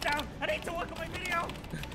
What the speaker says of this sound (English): For the keyboard clicking.